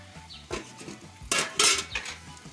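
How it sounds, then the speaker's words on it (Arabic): Boiled, drained beans stirred in a metal pot over an outdoor cooking fire, giving a few scraping, clattering utensil strokes against the pot at close range, with a louder burst of clinking midway. "هنمسك الفاصوليا الجامده بتاعتنا ونقلبها"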